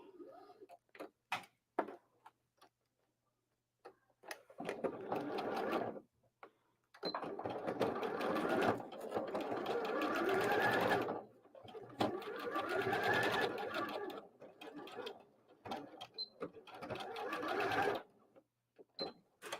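Sewing machine stitching a seam with a half-inch allowance, rapid mechanical chattering in several bursts of a few seconds each, separated by pauses with soft clicks and handling noises.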